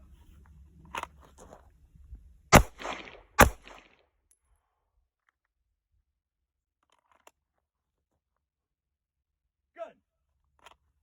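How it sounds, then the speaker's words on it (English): Two sharp, loud handgun shots ring out close together at a shooting range, with a few faint knocks and clicks before and after them. "we'll fire a couple rounds, do a magazine change safely"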